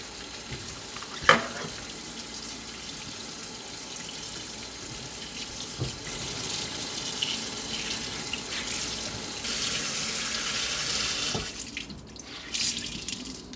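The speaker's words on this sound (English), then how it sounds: "I just start kind of squeezing it out, and I'm gonna rinse." A tap runs steadily as a makeup beauty sponge is squeezed and rinsed beneath it in a sink, a continuous close splashing hiss with occasional sharper drips and squelches, and no talk.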